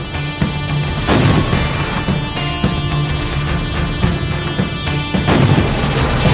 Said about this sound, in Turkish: Kaleden top atışına başladılar hünkârım.